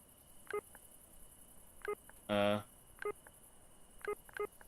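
Phone tapping sounds in a video game, a series of short, quiet electronic beeps and taps spaced about a second apart, with one longer tonal burst in the middle.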